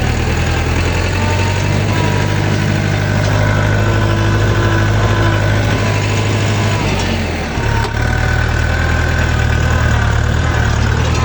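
A Chinese mini tractor's engine runs as it drives in reverse, giving a loud, steady, rumbling drone that dips briefly before picking back up.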